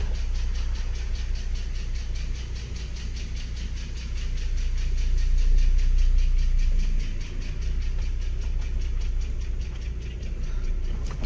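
A running 2009 Mercedes-Benz ML350 engine with a tapping fault idles with a steady, close mechanical drone and a fast, regular ticking woven through it, swelling slightly in the middle before settling back.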